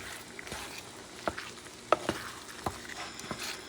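Wild boar meat frying in a pan as homemade chili powder is stirred through it, a soft continuous sizzle broken by several distinct scraping and clinking stir strokes, close by and without speech.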